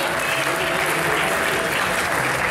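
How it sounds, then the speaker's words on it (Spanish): Steady, dense applause from an audience at a cosplay contest, loud and continuous across the whole moment. "Un gran aplauso para ella"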